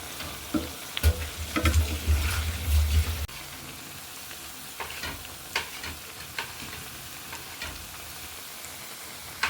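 Vegetable pakoras fry in a pan of oil with a continuous crackling sizzle, heavier with stirring and clatter in the first few seconds, then settling into a steadier, quieter bubbling.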